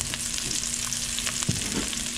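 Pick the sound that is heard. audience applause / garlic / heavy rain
garlic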